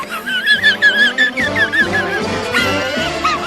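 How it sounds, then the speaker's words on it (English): A big dog by a chalk stream footpath whines and yips in high, wavering cries, loud and close, with several short whimpers in quick succession and no talk over them. "You see that big dog in the water?"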